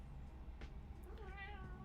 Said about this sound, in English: Is it the beginning of the meow?